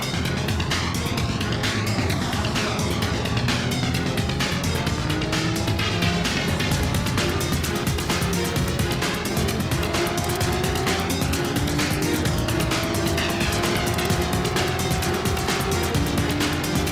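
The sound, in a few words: race cars overtaking in a racing video game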